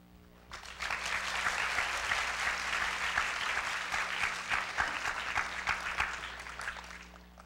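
Sustained audience applause welcoming guests at a university lecture series, swelling quickly after a brief quiet start into a steady, even roar of many hands clapping, then tapering slightly.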